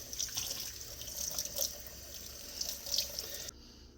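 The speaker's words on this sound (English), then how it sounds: "all you're doing is you're just washing off the extra cure and the extra salt" Water runs steadily from a tap over a cured pork loin being rinsed in a sink, splashing and trickling for several seconds before cutting off abruptly near the end.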